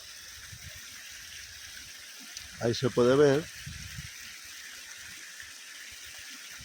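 A small waterfall on a mountain stream makes a steady, even rushing hiss that runs the whole way through, with someone briefly speaking over it partway in.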